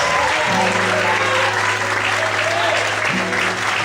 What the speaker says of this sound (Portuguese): levanta a mão, glorifica e aplauda o nome do Senhor em Deus